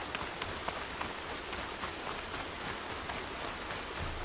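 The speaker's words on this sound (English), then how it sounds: "And then the rain." Steady, dense rainfall in the video game Horizon Zero Dawn, a continuous close hiss with scattered drop patter, constant and moderately loud with no voices.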